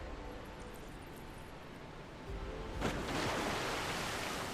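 Wind blows in Final Fantasy VII Rebirth as a steady broadband rush that swells louder partway through and then holds, with no speech.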